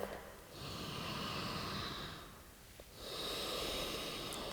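A slow, deep breath during a yoga session for hips and hamstrings: a long airy inhale, a short pause, then another drawn-out breath, soft and close with no talking.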